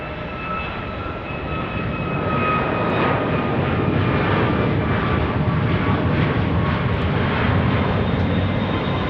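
A FedEx MD-11 jet airliner at Phoenix Sky Harbor International Airport roars with a loud, steady engine rumble and faint whine that swells slightly after the first couple of seconds and holds.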